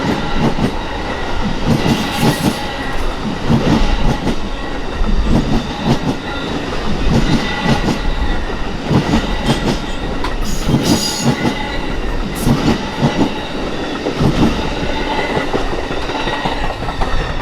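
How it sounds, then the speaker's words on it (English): Amtrak number 6, the eastbound California Zephyr, rolls past loud and close on Colorado's Moffat Tunnel route, a steady roar of wheels with clickety-clack over rail joints and occasional squeals, no voices. "the final train in the picture for a few hours would be Amtrak number 6, the eastbound California Zephyr"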